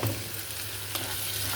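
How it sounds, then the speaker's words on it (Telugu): Curry leaves, with coriander and mint, frying in hot oil for a tempering, giving a steady close sizzle and crackle throughout with no voices. "కరివేపాకు అవి వేసుకొని వేగనివ్వండి."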